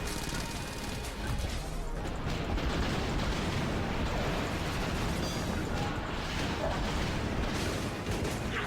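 Dense, continuous blasts and crashing detonations from the Enter the Gungeon video game, a steady loud barrage of explosions and gunfire-like bursts running throughout with no pauses.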